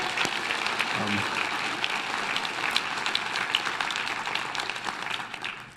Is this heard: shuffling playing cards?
no